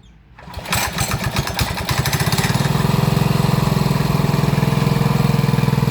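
A Briggs & Stratton engine on a minibike cranks with a few quick pulses, catches and settles into a loud, steady, close idle with a continuous throbbing drone.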